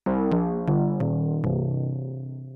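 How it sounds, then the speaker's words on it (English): An Elektron Digitone synth bass plays five quick plucked notes in succession, each with a sharp attack, ringing out and decaying together at the end. "On track 4 we have the bass sound"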